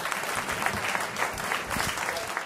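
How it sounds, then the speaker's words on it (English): An audience claps warmly for a wildlife expert taking the stage, a dense, steady burst of applause that fills the whole moment. "Ladies and gentlemen, warm round of applause for Dave Quinn."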